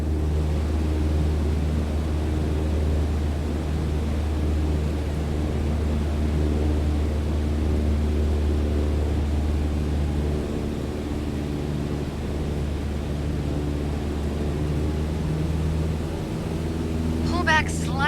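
An airplane engine runs at full throttle in Flight Simulator 2020, a steady, loud droning hum that holds evenly throughout with no break.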